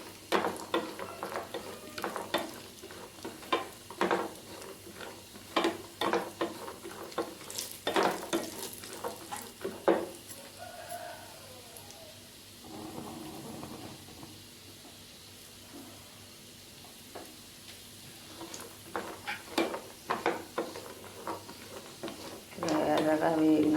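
Food fries in homemade ghee with a steady low sizzle, while a utensil stirs and scrapes the pan in frequent sharp clicks that pause briefly midway before resuming.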